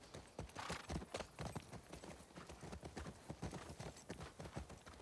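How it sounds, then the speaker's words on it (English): Horse hooves clip-clop in a steady rhythmic walk in The Last of Us Part II, close and clear, with a brief whinny-like sound and no talk over it. "Oh, horse."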